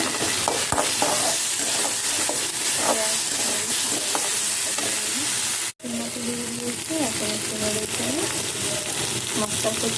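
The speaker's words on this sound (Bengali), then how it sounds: "মশলা কষিয়ে নিয়ে আমি দিয়ে দিলাম এবং শুকনো উপকরণ দিয়ে মশলা কষিয়ে নেব।" Spices frying in a pan in a home kitchen, a loud steady sizzle broken by a brief silent gap midway, with faint tonal sounds underneath and no clear talking.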